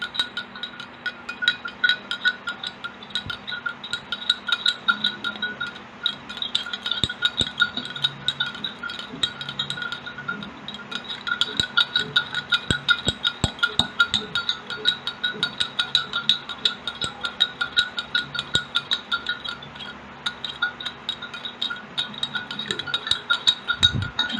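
A mixture is stirred in a glass during a Grade 6 science demonstration, with a spoon clinking steadily and rapidly against the glass in a quiet room, close up and continuous throughout.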